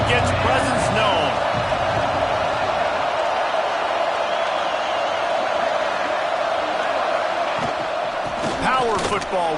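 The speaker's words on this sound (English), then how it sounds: "This crowd ready to make its presence known." A dense, roaring stadium crowd in a college football video game, Clemson against Oregon, sustained and loud throughout with cheers and whoops rising near the start and end.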